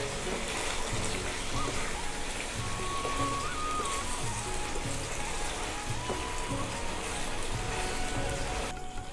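Cashew and poppy seed paste being cooked into chicken rezala in a pan, a dense continuous crackling sizzle like rain on a surface, steady and close throughout with no speech.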